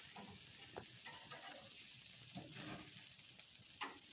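Sausages fry in hog fat with flames licking up, a quiet steady sizzle and crackle with occasional soft pops and stirring clinks throughout; no talking.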